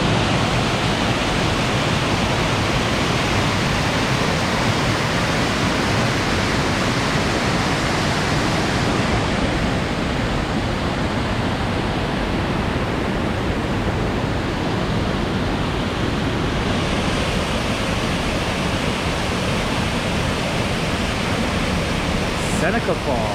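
Continuous loud rush of Seneca Falls at Ricketts Glen, Pennsylvania, a steady broadband roar that barely changes from start to finish, with no voices.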